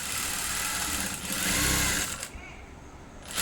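A sewing machine stitching a boat-neck blouse, a loud, steady whirring drone running close for about two seconds before slowing and easing off, with brief speech near the end.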